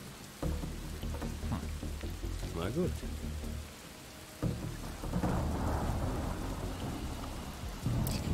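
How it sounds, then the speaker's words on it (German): Heavy thunderstorm with rain in the video game Desperados 3: a steady wash of rain, with low thunder rumbling throughout and swelling near the end, while someone speaks briefly over it. "Das Gewitter ist da."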